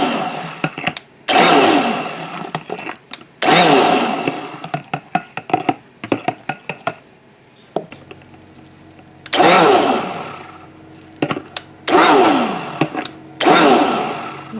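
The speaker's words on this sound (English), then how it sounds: "I have to watch this blender because this thing really blends. So I'm just doing small pulses." A powerful kitchen blender mixing homemade coffee and tea lotion ingredients whirs in a series of short, loud pulses separated by brief quiet gaps, with clicks in between.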